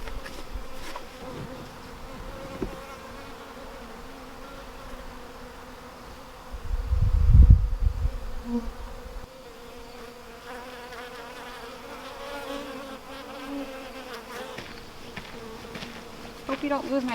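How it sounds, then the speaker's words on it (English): Honeybees swarm and buzz around horizontal hives in a dense, steady drone, with a brief louder thump partway through and faint voices in the background. "They're going crazy. It's a lot of bees."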